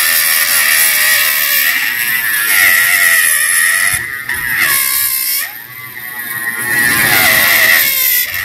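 A CNC spindle at low RPM cuts steadily through metal: a loud, continuous machining whine whose pitch wavers and sweeps as the cutter works, with no talk over it.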